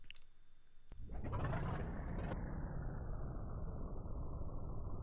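Aircraft engine starting in the X-Plane 11 flight simulator: a click, then a quick rising whine as the engine catches and settles into a loud, steady roar that continues alone to the end.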